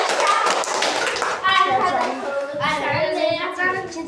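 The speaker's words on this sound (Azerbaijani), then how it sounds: "Ayşəm alqışlayırıq" Classmates in a school classroom clap for a pupil: a brisk, uneven burst of many hands applauding up close, mixed with children's voices talking over it.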